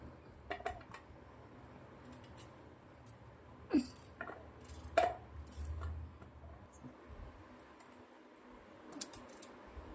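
Raw green mango being chopped into large pieces for chutney, a few sparse knife clicks and taps against a board with quiet gaps between.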